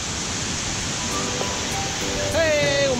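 Fairyland Waterfall pours as a steady, broadband rush of falling water close by, and a voice speaks over the roar toward the end.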